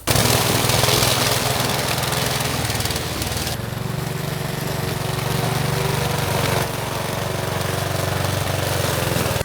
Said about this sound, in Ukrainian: а ну візьме бензинова газонокосарка секвоя ось таку кропиву, яка більше, ніж по пояс